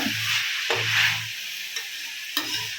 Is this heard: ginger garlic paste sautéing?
yes